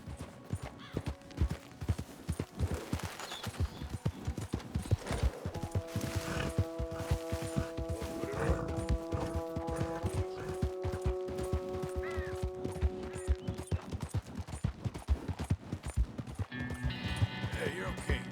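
Galloping horse hooves in Red Dead Redemption 2 thud in a fast, steady, unbroken rhythm, joined midway by sustained musical tones, with a rider speaking now and then over the pounding.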